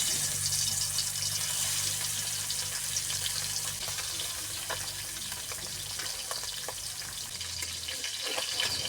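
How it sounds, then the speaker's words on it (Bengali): Small baila and chunga fish frying in hot oil in a home kitchen, a steady close hiss of sizzling with a low hum underneath and no talk. "তেল গরম হয়ে গেছে, এবার মাছগুলো ভেজে নেব।"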